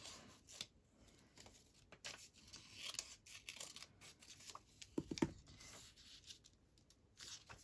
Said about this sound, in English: I think I'll just snip those off